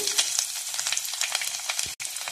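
Halved garlic cloves frying in hot coconut oil after mustard seeds have popped, giving a dense, even sizzle with fine crackles, close up and steady apart from one brief break, with no voices.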